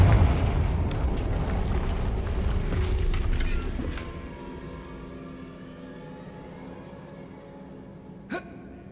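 Confringo fire spell explosion in Hogwarts Legacy, a loud booming blast with a rumbling tail that fades over several seconds, followed by quieter ambience and a brief sharp pop near the end.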